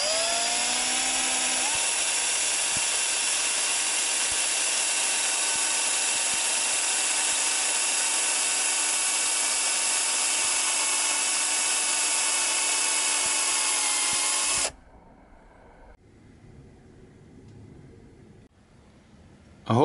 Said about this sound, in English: So I'm going to drill a hole right the way through the middle.